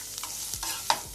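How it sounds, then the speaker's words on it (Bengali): Frying carrots, peas and onions stirred and mixed in a pan, a few scraping spatula strokes over a soft, steady sizzle, close and moderately loud. "এবার খুব ভালোভাবে নেড়ে মিশিয়ে নিচ্ছি"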